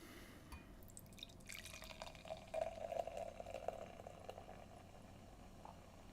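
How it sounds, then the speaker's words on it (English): A drink trickles slowly into a glass, a thin steady pour that swells to a louder bubbling stretch midway before tapering off, heard alone and fairly quiet. "And we'll get into the theatrics of a 5-minute pour."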